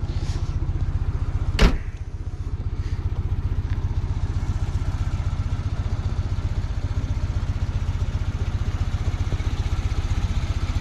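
A car with its original engine refitted idles steadily and smoothly close by, an even low rhythmic thrum throughout, broken once early by a sharp knock.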